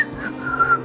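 A person whistles briefly, imitating a whistle in a short wavering tone that lasts under a second, close and fairly clear.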